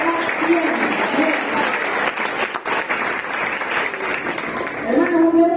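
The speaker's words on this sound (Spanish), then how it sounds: "Denle un aplauso al Señor porque Dios es bueno" A church congregation applauds loudly and steadily for several seconds, a dense wash of many hands clapping at once that swells again near the end.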